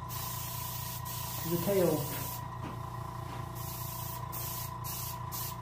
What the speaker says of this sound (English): Might even want to angle spray a little bit, bring out some of the scale detail.